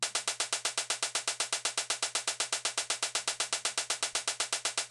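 A steady, evenly spaced run of crisp hi-hat hits from the Ultrabeat drum machine repeats in a fast, mechanical pattern at constant loudness, each tick identical, over a low steady hum, with no voices.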